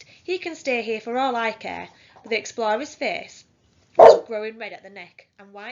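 A dog barks once, loud and close by, abruptly breaking into a person's steady reading aloud indoors.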